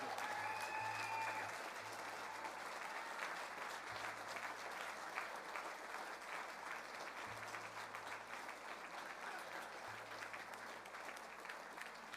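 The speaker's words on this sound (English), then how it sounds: "Give them a round of applause." A convention audience at a New Zealand First party gathering applauds, a dense, sustained wash of clapping from a large crowd that holds steady throughout.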